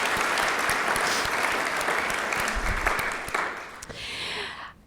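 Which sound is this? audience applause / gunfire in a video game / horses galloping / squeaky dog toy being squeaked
audience applause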